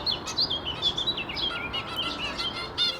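Finches chirping in a large aviary, a busy overlapping series of quick high tweets close by, with light wing flutters.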